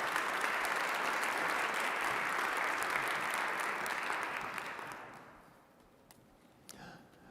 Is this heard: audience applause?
yes